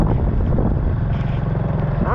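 Motorbike engine droning steadily while riding on a rainy rural trip, a close, loud continuous hum with a voice talking over it.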